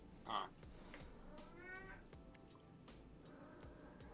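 A pet cat named Beans gives a faint, drawn-out meow in the background of a quiet room, with a soft click or tap just before it.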